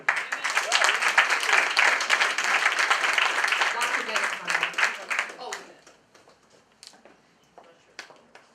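Audience applause at a Board of Education meeting for the Mount Vernon City School District, a dense crowd of clapping that holds steady for about five seconds, then thins out into a few scattered claps.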